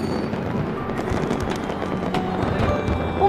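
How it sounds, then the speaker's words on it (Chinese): Fireworks burst in a New Year night sky over a family home's courtyard, heard as a dense, continuous rumble of crackling detonations, moderately distant and steady throughout. "看这么多烟花"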